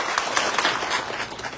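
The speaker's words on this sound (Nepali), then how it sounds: "हामी सबैलाई ताली बजाउँ त एकचोटि" An audience at a community awareness camp for workers claps in a steady, dense patter. The crowd applause is moderately loud and fills the short moment with no talk over it.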